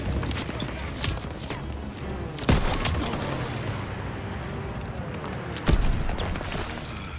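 Half-track mounted machine gun firing in Call of Duty WWII, rapid bursts of gunfire with two louder sharp blasts amid battle noise, while someone talks faintly over it.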